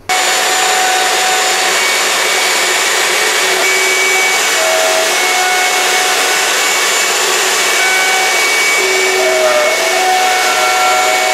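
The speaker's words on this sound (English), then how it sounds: "I'm going to use my horizontal mortiser." A horizontal mortiser cuts end grain mortises in wooden rails with a steady, loud whine that holds unbroken for several seconds, its pitch shifting slightly as the bit moves through the wood.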